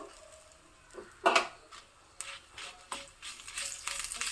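Dry red chillies with coriander seeds frying in oil in a pan for onion chutney, giving soft intermittent sizzles and crackles with a few stirring scrapes, fairly quiet and close, no talking.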